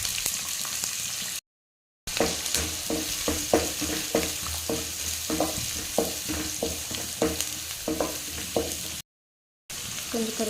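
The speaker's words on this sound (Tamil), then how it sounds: "வெங்காயம் நல்லா இந்த மாதிரி வெடிக்கணும்" Oil sizzles and crackles steadily as chopped onions fry with crushed garlic and curry leaves, with a busy stream of small pops and spatters close by, briefly cut off twice.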